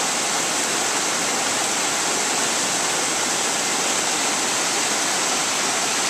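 Floodwater from Hurricane Irene rushes past a village cheese plant, a loud, dense, unbroken roar of churning water that holds steady and close with no pauses or voices.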